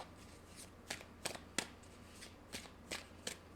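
Tarot cards are shuffled by hand in a quiet room, giving a series of soft, crisp riffling slaps at an uneven rhythm, close and fairly faint.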